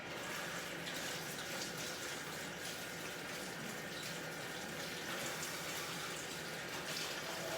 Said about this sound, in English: I need to wash my hands really fast.